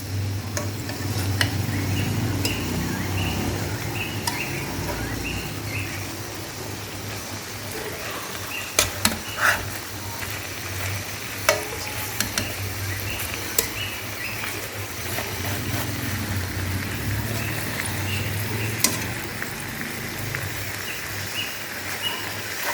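Chicken pieces sizzle steadily while roasting in a pan, with occasional scraping and clinking as they are turned over, a dense continuous frying hiss throughout.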